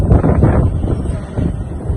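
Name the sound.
wind blowing in Naran market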